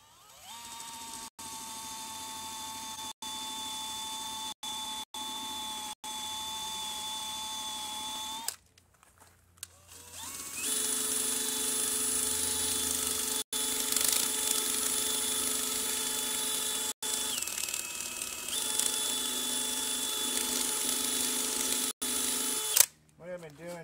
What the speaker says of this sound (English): I'm on medium setting on my DeWalt drill.